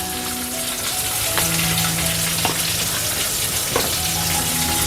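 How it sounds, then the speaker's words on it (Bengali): Chopped onion sizzles steadily in hot oil in a home kitchen, a continuous close frying hiss with a few sharp crackles and occasional faint utensil taps, no talking. "পেঁয়াজটা একটু ভাজা ভাজা হোক।"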